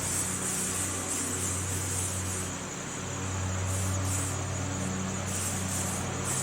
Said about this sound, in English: squirt it down with a light spray